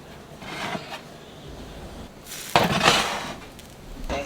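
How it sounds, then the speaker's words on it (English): Lemon garlic butter chicken being basted in a pan: a spoon clinks and scrapes against the metal in scattered knocks, with a louder rattling burst midway, close and without voices. "Do a little basting."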